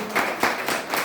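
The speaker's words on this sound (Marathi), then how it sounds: "जोरदार टाळ्या तुम्हा सर्वांसाठी होणं गरजेचं आहे" Applause from a gathered audience at a business welcome, with a few distinct clustered bursts of clapping in about a second, fairly close and moderately loud.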